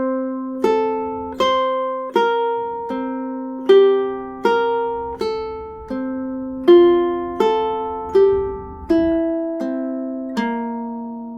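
A ukulele plays four measures of Fernando Sor's Opus 60 no. 1, plucked notes ringing clearly and evenly in a slow, steady rhythm, each note decaying before the next, heard alone without talking.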